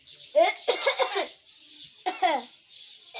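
A myna bird imitating a human cough: three short, raspy, voice-like bursts close by, separated by brief pauses.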